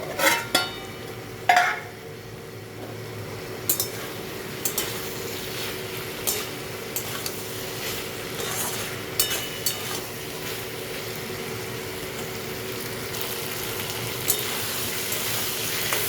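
Chicken mince being stirred and fried in a pan over high gas, a steady sizzle running throughout with scattered scrapes and clinks of a spoon against the metal, close and moderately loud, no talking.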